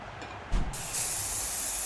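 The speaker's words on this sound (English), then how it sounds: "I'm just spraying some stuff" Aerosol spray from a can hisses in a steady, fairly close burst after a brief thump, the hiss continuing evenly to the end.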